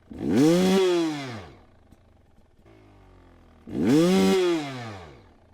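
Motorcycle engine revving hard twice as the rider feeds the clutch on a descent, each loud rising-and-falling rev separated by a quieter idle, with no talking.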